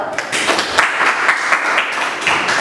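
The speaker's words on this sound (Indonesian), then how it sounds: "Kita tepuk tangan dulu" Students applaud group 3's presentation in a teacher-training classroom lesson, a dense, continuous wash of many hands clapping at once, loud and close throughout.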